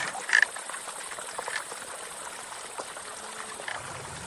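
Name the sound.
irrigation water flowing in a channel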